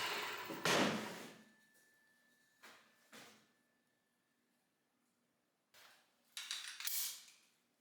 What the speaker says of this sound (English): I use a brad nailer to support the back end from the top